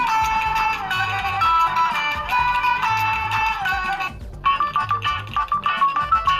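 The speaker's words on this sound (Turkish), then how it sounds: "Şimdi telefon zil sesine bakalım." A Vestel Venüs 5000 Android phone ringtone plays a bright, melodic Turkish folk-style tune with repeating notes, briefly pausing before resuming with plucked, rhythmic phrases.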